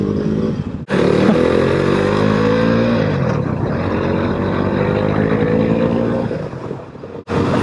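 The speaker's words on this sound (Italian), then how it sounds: "Attenzione, scalda il motore." A vehicle engine revs hard and pulls away as a loud, close, rising harmonic drone, with a sharp cut-off at the start and another brief drop near the end, buffeted by wind noise.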